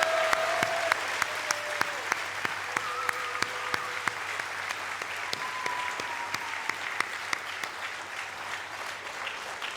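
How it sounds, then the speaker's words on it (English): Audience at a graduation ceremony gives a moderate, even round of applause with distinct claps standing out, steady throughout, while faint tonal sounds drift in the background. "Please help me give a warm round of applause to our guests here today, your friends and family."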